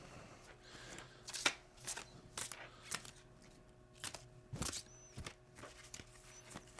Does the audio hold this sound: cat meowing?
no